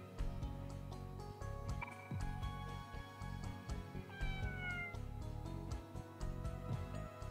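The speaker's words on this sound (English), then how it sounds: "What a cute cat." A cat meows in the Persona 2: Eternal Punishment game, several short wavering cries heard over a looping electronic music track with a steady beat, no voices.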